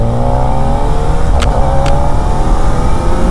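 A Kawasaki Ninja ZX-4RR inline-four motorcycle engine revs loud and close on a street ride, a steady high-pitched roar with brief sharp blips over a constant drone, no voices.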